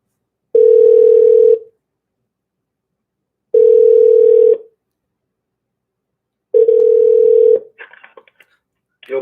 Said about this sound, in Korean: 지금 전화 안 받으시는데 다시 한 번만 걸어보시죠